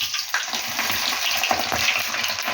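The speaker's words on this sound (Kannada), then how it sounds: "ಬೆಳ್ಳುಳ್ಳಿನೂ ಒಣಮೆಣ್ಸಿನ್ಕಾಯಿ ಹಾಕ್ಕೊಂಡಿದ್ದೀನಿ. ಅದನ್ನು ಸ್ವಲ್ಪ ಎಣ್ಣೆಲಿ ಹಿಂಗೆ ಕರ್ಕೊಳ್ಳೋಣ" Garlic and dried red chillies fry in hot oil, giving a loud, steady, hissing sizzle with small crackles throughout.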